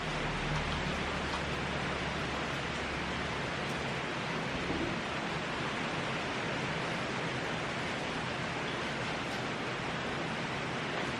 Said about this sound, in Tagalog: Mukhang lakas ng ulan.